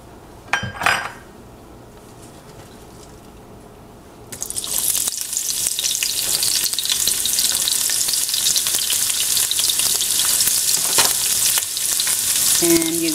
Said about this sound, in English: And once hot, you're gonna add the onions.